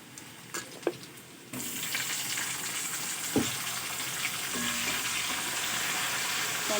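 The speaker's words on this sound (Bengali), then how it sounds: "টমেটো আর লঙ্কা পেঁয়াজ আর একটু ভালো করে ভাজা ভাজা করে নেব।" Chopped tomato, onion and chili sizzle in a hot pan for a spicy Bengali fish curry, with a steady close-up frying hiss that jumps louder partway through and occasional stirring clinks.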